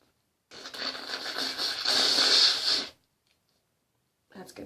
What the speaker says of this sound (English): All right, after I blow my nose.